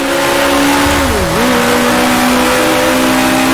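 A 1966 Formula 1 race car engine in Grand Prix Legends drones loudly, then blips down a gear with a quick dip and rise in pitch before settling into a steady high howl.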